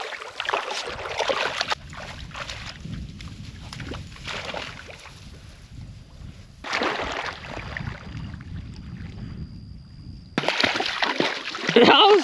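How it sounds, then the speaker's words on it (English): Dogs splash and slosh through a small dammed-up flooded creek on a hot morning, with bursts of churning water coming and going over about twelve seconds, loud and close. "There's just a little dammed up flooded creek just below where I'm staying, and just trying to get the dogs cooled off a little bit."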